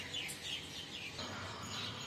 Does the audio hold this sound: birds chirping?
yes